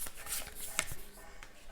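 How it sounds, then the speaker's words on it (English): Oracle cards are shuffled by hand in a quick, quiet burst of papery flicks and riffles, close up and faint, with a few sharper snaps. "Oh, shuffle, and we're going to pick a couple of cards."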